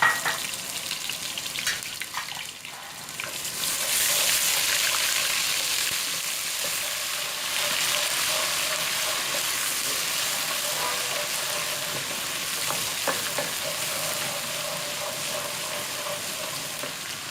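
Whole spices with garlic and ginger sizzle in a pan while mutton paya is cooked, a steady hiss of frying oil with occasional stirring clinks, close and moderately loud, no talking.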